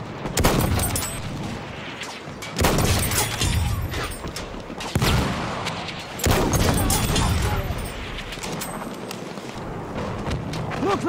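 Booming anti-aircraft gun blasts from Battlefield 1 thud in heavy, spaced bursts roughly every two to three seconds over a noisy battlefield, with shouted voices now and then.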